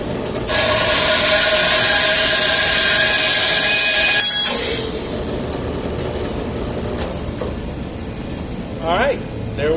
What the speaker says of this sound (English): we're just going to run it through the bandsaw so we can cut it in half